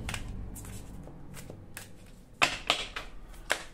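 Tarot cards shuffled by hand ahead of a nine-card spread: soft riffling and sliding through the clip, with several sharper card snaps near the end and no talk.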